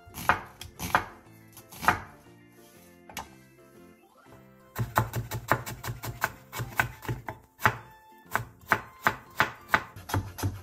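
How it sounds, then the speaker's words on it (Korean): A knife thinly slices onion and carrot on a cutting board, with crisp, rapid chopping strikes in uneven bursts, a short pause, then a fast steady run of cuts over soft background music. "양파 4분의 1개와 당근 조금을 얇게 채 썰어주세요"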